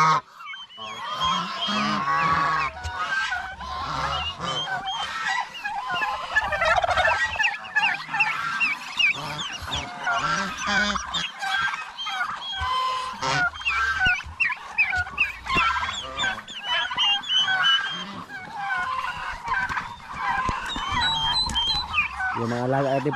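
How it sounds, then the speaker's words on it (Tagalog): Farm turkeys and ducks honk, gobble and quack continuously as a crowded, noisy flock close by. A voice speaks intermittently among the calls. "Yung mga alaga natin pabo, pato, kahit palagi pa tayo nagkatay, mukhang hindi na bawasan."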